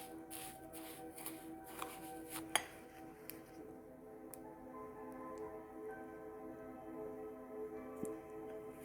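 A spoon stirs a bath salts mixture in a bowl, giving soft gritty scraping with light clinks against the bowl, one sharper tick partway through, all close and fairly quiet.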